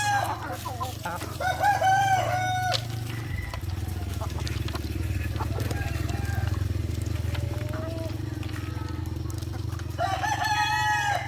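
Farm chickens clucking with a rooster crowing, repeated calls close by over a steady low hum, while a person talks in between.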